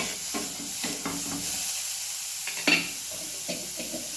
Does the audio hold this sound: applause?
no